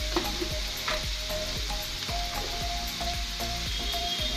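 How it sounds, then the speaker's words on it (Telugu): Chopped onion pieces fry in hot oil with a constant bubbling sizzle, broken by a steady series of scraping stirs and light pan taps, close and without any speech. "మనం ఉల్లిపాయ ముక్కలు వేసి ఈ విధంగా వేయించాలండి"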